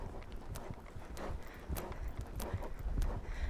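Hooves of a ridden horse clip-clop in a steady walking rhythm on an arena track, close and fairly loud, with soft thuds and light rustling between steps.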